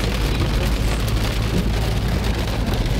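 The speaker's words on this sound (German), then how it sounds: "Fängt das volle Pulle an zu regnen?" Heavy rain drums steadily and loudly on a caravan or car roof during a drive toward a campsite, a dense continuous hiss with a low rumble beneath and no voices.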